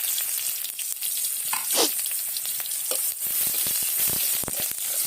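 Onions frying in hot oil after a tempering of spices, a steady close sizzle with occasional stirring scrapes and pops, no talking.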